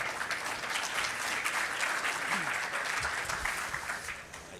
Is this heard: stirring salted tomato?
no